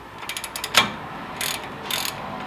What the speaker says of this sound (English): So we're going to put the caliper back on.